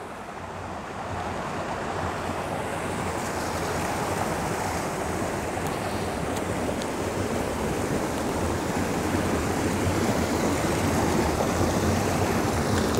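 Water rushes steadily through a channel diverted to an old mill in Nieu-Bethesda, a loud continuous wash with no pauses and no voices.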